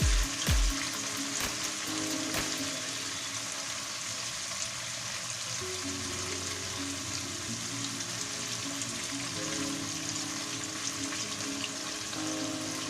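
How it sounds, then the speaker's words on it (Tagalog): Tofu frying in hot oil until golden brown, a steady close sizzle and crackle running the whole time with a few louder pops near the start. "Antayin lang po natin mag-golden brown ang ating tofu bago po natin siya inuin."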